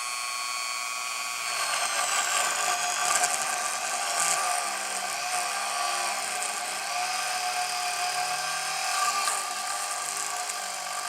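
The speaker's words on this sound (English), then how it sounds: "So let's drill a hole here" Engindot rotary tool bit drilling into a piece of wood, a steady high-pitched whine with shifting tone as the bit bites and bogs slightly, loud and close with no talking.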